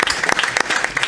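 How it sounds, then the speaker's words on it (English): A round of applause at a town council and board of education meeting, a short dense burst of clapping from a room of people, close and fairly loud with no talk over it. "John Daig, I'd like to give you a round of applause for all of the work that you have done, John."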